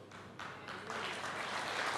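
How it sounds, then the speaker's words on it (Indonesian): Parents in a church congregation clap during a sermon, a light scattered applause that swells slightly over two seconds, fairly distant in a reverberant hall. "Yang tepuk tangan cuma orang tua."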